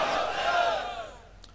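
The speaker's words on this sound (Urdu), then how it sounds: "بازوق نعرہ لگائیں، نعرے کی گونج میں شاہ صاحب کا خطاب ہوگا۔ نعرہ تکبیر" A large crowd at a religious conference roars a slogan in unison, a loud massed shout that swells and then fades over about a second and a half.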